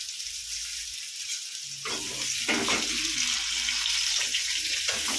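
Curry leaves dropped into hot oil for a banana-fish curry burst into a loud, hissing sizzle that keeps crackling steadily after a quieter start, close and with no talking.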